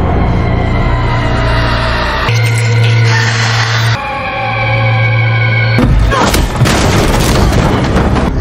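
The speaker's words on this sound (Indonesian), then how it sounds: "Josephine yang masih hidup masih bisa melakukan perlawanan menggunakan senapan FF" Rifle gunfire in an end-of-the-world film scene, heavy booming shots layered over a dense, loud cinematic soundtrack with tonal swells between blasts.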